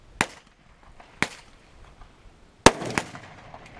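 Shots from a Thompson submachine gun fired at a range, heard as four sharp, loud, close single reports at irregular intervals, with two of them in quick succession near the end and no talking.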